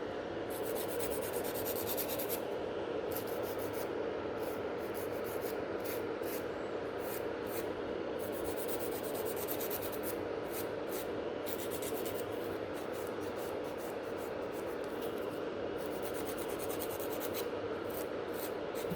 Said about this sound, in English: blending everything around the cuticle area and scratching the surface of the natural nail plate